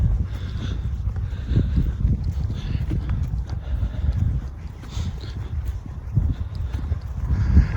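Gusty wind buffets the microphone in low, uneven rumbles throughout on a countryside hiking road in Leicestershire, UK, with no clear voices.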